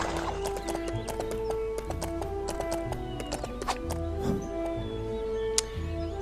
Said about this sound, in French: Ah, un sombral. Un espèce de cheval ailé squelettique.